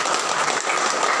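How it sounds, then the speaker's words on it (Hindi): A hospital audience claps for staff and a dramatics team at a World Parkinson's Day event, a brief, dense burst of applause that holds at an even level across its short span. "एक बार सब स्टाफ और ड्रामेटिक्स टीम के लिए जोरदार तालियां"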